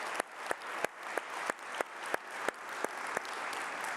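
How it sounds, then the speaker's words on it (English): Audience applause at a cloud native conference keynote, a steady wash of clapping with regular sharp claps standing out, moderately faint and alone with no talk. "let's give them a round of applause for all the work they did over the last year"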